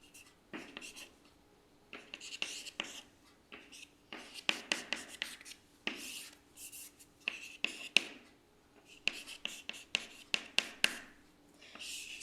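Chalk or marker scratches across a board in a lecture hall, in bursts of quick strokes and taps separated by short pauses, close and fairly quiet.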